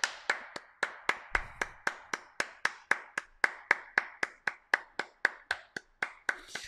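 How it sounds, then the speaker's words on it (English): Steady, evenly spaced single hand claps, about three per second, crisp and close, keeping time alone through the whole stretch with no voices over them. "Clap your hands."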